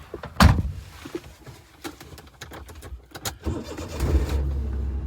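A car door shuts with a sharp thud near the start, followed by clicks and shuffling, then the engine turns over and settles into a low idle.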